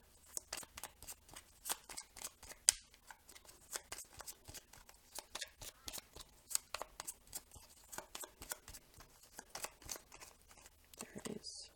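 Tarot cards are shuffled and drawn by hand in a quiet room, producing a steady run of soft, rapid card flicks and riffles, close and fairly faint, with occasional quiet speech underneath.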